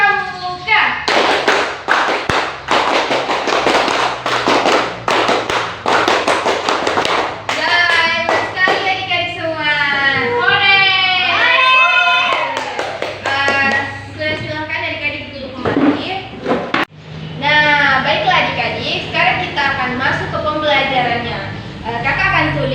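A class of children in an Indonesian scout-style classroom session claps the tepuk pramuka pattern together, bursts of rhythmic group claps and thuds mixed with children's voices and chatter throughout.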